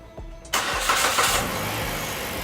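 A car engine starting after its battery was reconditioned: a brief starter crank, then the engine catches with a loud burst and settles into a steady mid-pitched idle, close by, with no talking.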